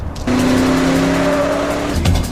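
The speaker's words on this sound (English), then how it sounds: "So they have themselves a little car chase" A cab engine roars steadily through a film car chase, a loud sustained tone holding for about two seconds and dropping near the end.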